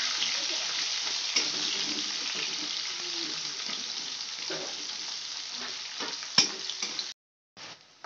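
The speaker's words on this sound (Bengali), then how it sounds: "পেঁয়াজটা একটুখানি ভেজে নেবো।" Chopped onion fries in oil for a muri ghonto, a steady soft sizzle with occasional light stirring scrapes, ending in a brief silence and a short clatter.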